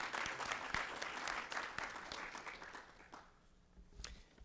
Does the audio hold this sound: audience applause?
yes